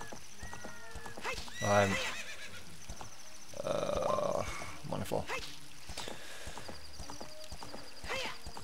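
A horse in Zelda: Ocarina of Time whinnies loudly, with clip-clopping hooves and game sound effects, while someone talks over the game.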